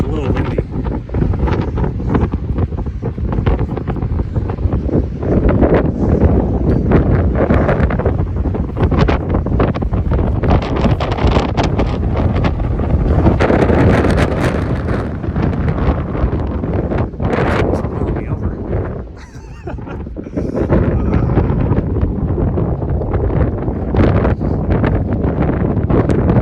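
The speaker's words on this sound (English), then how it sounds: "I don't know if you can tell, but it's a little windy." Steady wind on a mountain trail in the Sierras buffets the microphone with loud, continuous roaring gusts throughout, briefly easing near the end, while a voice speaks now and then beneath it.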